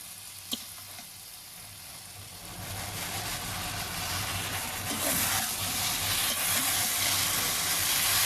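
Masala spices sizzle and fry in a pan for a rohu fish curry, a faint tap at first, then a steady loud hiss that builds and holds as the mixture is stirred.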